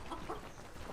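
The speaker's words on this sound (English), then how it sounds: "Did you guys hear a pigeon?" Soft, low bird calls, heard as a pigeon cooing, come through in a few brief murmured notes beneath a noisy, muffled background during a game stream.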